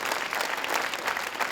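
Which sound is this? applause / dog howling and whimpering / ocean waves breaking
applause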